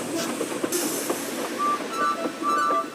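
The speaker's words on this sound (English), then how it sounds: "The first coach moving helped to start the second," A steam engine moves slowly forward, pulling a line of coaches. Rolling rail clatter and rumble are heard nearby, with a few brief high squealing tones from the wheels or train.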